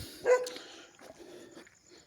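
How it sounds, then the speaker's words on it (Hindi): A dog barks once, briefly and at a middle distance, outdoors along a road in Hyderabad, followed by faint scattered yips and ambient street noise with no talk. "फिर कुत्ते के भौंकने की आवाज़ आई।"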